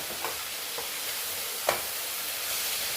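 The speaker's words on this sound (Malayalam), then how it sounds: "ഇനി ആ ഒരു കുറച്ച് കടുക് വറുക്കണം എനിക്ക് സാമ്പാർ വെച്ച്" Mustard seeds sizzle in hot oil for sambar, giving a steady, fairly loud frying hiss with a few faint pops and clicks and no talking.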